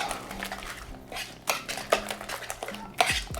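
Dill potato salad with fresh dill and chives being mixed in a bowl, a utensil knocking and scraping against the bowl in a run of close, uneven clinks and taps.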